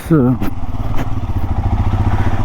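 A motorcycle rides at night with a steady mid-pitched engine drone throughout, while someone speaks briefly over it at the start.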